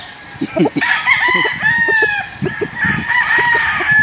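A rooster crows loudly and close by, a long rising and falling call, with some clucking and background chatter around it.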